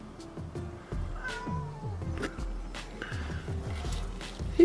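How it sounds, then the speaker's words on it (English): A cat meows repeatedly outdoors in an autumn woodland setting, with several drawn-out, wavering cries in a row, fairly close against faint background rustle. "Who's meowing?"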